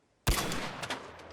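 A single sharp gunshot from ARC Raiders cracks out of near silence, followed by a long decaying rumble and crackling tail that fades over about a second.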